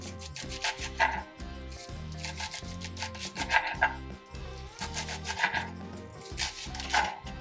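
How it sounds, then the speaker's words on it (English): A knife cuts kale into small pieces, with sharp chopping strokes in a loose, uneven rhythm over steady background music. "Get a knife and begin to cut it into small pieces."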